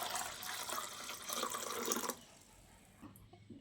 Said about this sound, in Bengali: এবার আমি একটা পাত্রে জল নিয়ে নিচ্ছি।